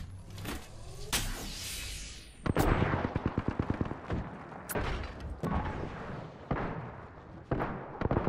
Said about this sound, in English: Shots fired at me.